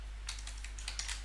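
Quick bursts of typing on a computer keyboard, a short run of close, light key clicks over a steady low hum with no voices.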